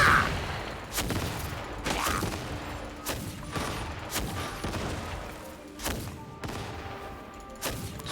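Battleship cannons fire in Genshin Impact as a run of heavy booming shots about once a second, each a sharp blast with a short rumbling tail, loud and close, with no talk over them.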